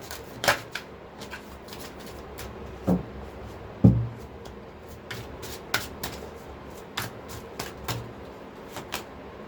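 Tarot cards drawn and shuffled by hand, a sparse series of sharp papery snaps and flicks spread irregularly over a quiet room, a few louder slaps standing out, no voices.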